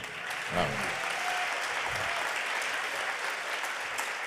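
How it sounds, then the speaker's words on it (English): Audience applause at a poetry and song session, a steady, full wash of clapping that fills the room throughout, with faint voices underneath. "Let's have another round of applause."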